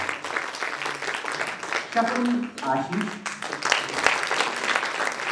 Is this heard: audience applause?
yes